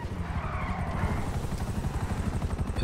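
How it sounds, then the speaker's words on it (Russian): A helicopter in the video game GTA 5 thrums steadily and close, with rapid rotor chop pulsing throughout over a broad engine roar. "Вертолет."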